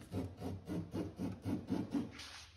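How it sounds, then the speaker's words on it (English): An oscillating sander with 80-grit paper works the inside of an epoxy-coated dinghy hull, making close, rhythmic rasping strokes, about eight in quick succession, with no talk. "I sanded the inside with 80 grit oscillating sander again."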